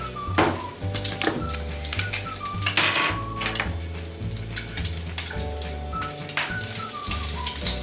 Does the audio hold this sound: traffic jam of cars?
no